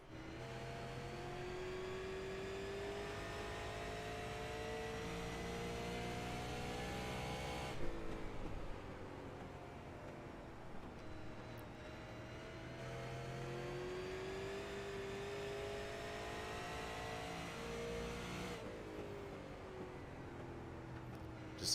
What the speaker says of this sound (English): Let's take a listen to how hard he's pushing that car.